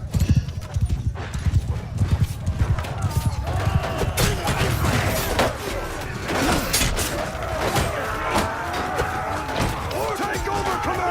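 Many horses gallop in a dense, drumming clatter as mounted archers charge in Mount and Blade II: Bannerlord, with neighs and battle clashes mixed in under a person talking.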